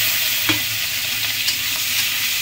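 Slit green chillies sizzling in hot oil in a frying pan for a Bengali shrimp curry, a loud, even frying hiss with a few faint stirring taps.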